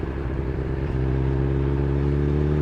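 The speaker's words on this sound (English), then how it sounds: "This bike has such a fun engine to play with." A Honda CB motorcycle engine revs up close and loud, its steady harmonic drone rising and holding after a brief lower idle at the start.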